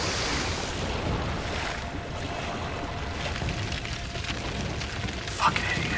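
Water waves washing steadily in The Witcher 2, a continuous broadband wash with some wind and a brief splash near the end, a voice talking faintly underneath.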